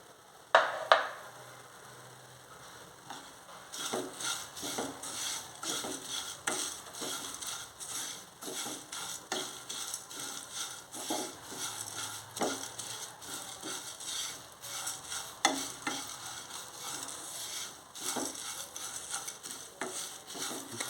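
Curry leaves roasting and being stirred in a pan for flaxseed chilli powder, a soft crackle with repeated light scraping strokes, faint and steady after a couple of sharp knocks at the start.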